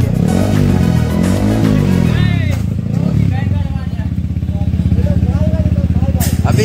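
A Yamaha R15 V4 motorcycle fitted with an Akrapovic exhaust idles with a steady, loud, pulsing burble while someone talks over it.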